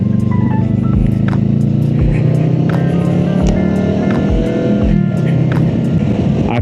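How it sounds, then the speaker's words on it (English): Honda Rebel 500 motorcycle with a Kaufman slip-on exhaust, its engine droning loud and close with a throaty, rising rev and low periodic thumps. "if you hear that engine, I'm rocking the Kaufman slip-on exhaust"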